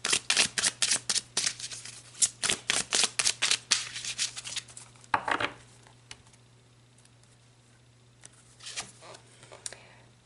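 Tarot cards being shuffled and drawn, with a rapid patter of riffles through the first five seconds, then quieter occasional flicks and shuffles close by, alone without talk.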